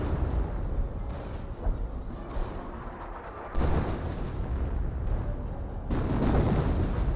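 Sector artillery barrage in Company of Heroes pounds away as continuous heavy booms and rumbling explosions, with louder impacts swelling in the second half, close and dense, no talking.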